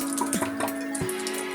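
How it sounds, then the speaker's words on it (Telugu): Water running from a tap at a sink beside a water purifier, a steady close stream with small splashing bursts and a faint tonal ring, fairly quiet and without speech. "ఇదిగోండి ట్యాప్ కనుక ఆన్ చేస్తే ఏమవుతుంది, ఇదిగోండి వాటర్ వస్తున్నాయి"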